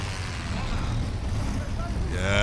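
Enemy planes fly in during a video game battle, a steady droning engine roar that swells toward the end, heard under someone talking.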